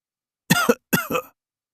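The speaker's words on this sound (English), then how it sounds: "Violent coughing overtakes him" Two harsh, hacking coughs come one after the other, close and loud, followed by silence.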